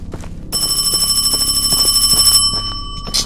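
A telephone rings loud and close with a continuous trilling, electronic bell tone that starts abruptly, holds for about two seconds, then drops off, with no voices over it.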